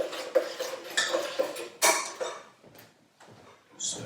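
A spoon stirring leftover scrap soup in a pot, with close metallic clinks and scrapes in uneven bursts that fade to quieter rustling before a final clatter.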